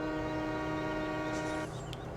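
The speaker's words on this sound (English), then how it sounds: "you can obviously honk," A vehicle horn in Farming Simulator 2017 sounds as one sustained, steady tone for about a second and a half, then cuts off to quieter engine hum, with no talking.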